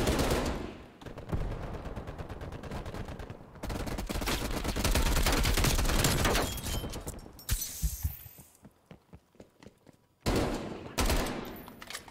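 Dense automatic gunfire in Call of Duty Black Ops Cold War, long rapid bursts of loud shots broken by short pauses, with a few scattered single cracks and glassy breaking sounds.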